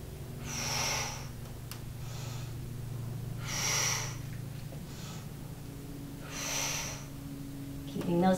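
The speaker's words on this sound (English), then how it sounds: "Exhale and inhale." Slow, deliberate breaths during a resistance band mat exercise, three long airy exhales spaced a few seconds apart over a low steady hum, fairly close and soft.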